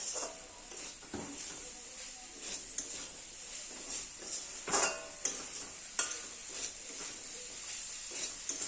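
Spices for ghugni sautéing in a pan: a steady soft sizzle with scraping and clinking strokes of a spoon as they are stirred, close and moderately quiet, with no talk.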